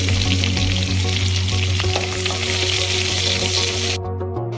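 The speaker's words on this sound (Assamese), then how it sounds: "এতিয়া মই ইয়াতে অকণমান পিঁয়াজ দি দিম" Onion frying in hot oil in a wok with a dried red chilli and two bay leaves, for an Assamese fish dish; a loud, steady, dense sizzle runs throughout with no talking.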